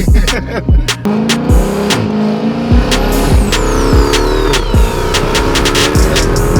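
A car engine with a stock setup and a Cat Elite exhaust system revs hard in repeated sharp bursts, the exhaust barking and crackling loudly between blips, close by and aggressive.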